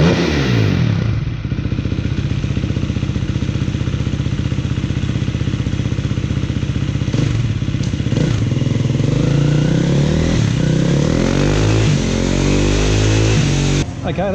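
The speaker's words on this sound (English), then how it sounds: "we're going to do a run on the dyno now just with the Scalvini itself and the stock ECU" A KTM EXC 350 dirt bike fitted with a Scalvini exhaust and a stock ECU runs on a dyno, its engine roaring loud and steady without a break before climbing in a hard rev near the end.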